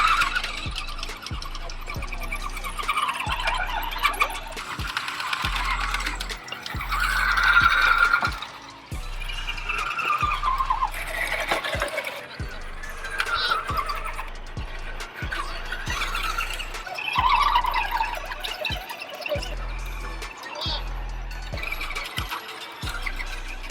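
An Axial scale RC car crawls along a scale guardrail, its small electric motor whining and squealing in repeated bursts with stop-start rhythm and light rattles, heard nearby.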